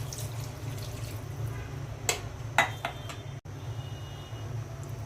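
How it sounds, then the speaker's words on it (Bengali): Water is poured into a pan of sautéed chicken curry with papaya and potato, giving a short splashing burst over a steady background hum, followed by a few clinks and quiet kitchen noise. "পানি দিয়ে দিচ্ছি।"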